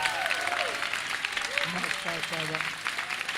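A church congregation claps in a steady wash of applause, while voices call out and sing in the room over it.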